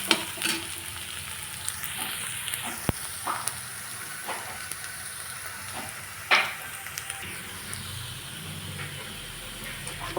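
Chopped onion frying in a pan for a green onion (kanda pat) bhaji, giving a continuous close sizzle and hiss with occasional scrapes and clinks of a stirring spoon, no voices.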